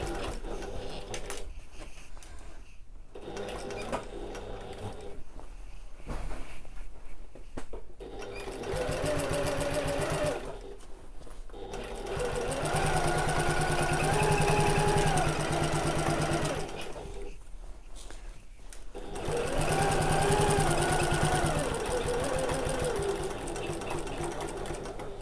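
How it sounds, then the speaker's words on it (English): A sewing machine back stitches a fabric bag, running in long steady bursts of rapid stitching separated by short pauses, close and fairly loud. "I'm just going to carry on where I left off, back stitching at the start and around this curve"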